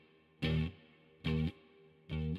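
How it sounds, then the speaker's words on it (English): Guitar played through a delay effect for a heavy shoegaze song: three distorted, chorused bursts repeat at even intervals against a faint sustained background, with no talk. "delays the sound, so it would be like this."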